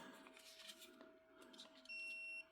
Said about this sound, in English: See, it beeps.